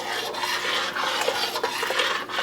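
A spoon stirs thick gravy for turkey wings in a pot, a steady scraping and sloshing that goes on throughout with no talking.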